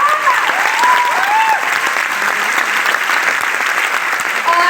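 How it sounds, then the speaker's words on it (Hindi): An audience applauds loudly for a guru, a dense, continuous roar of clapping that stays strong throughout, with bright whistles or cheers rising over it. "तो मैं चाहूंगी मेरे गुरु के लिए एक बार जोरदार ताली दीजिए।"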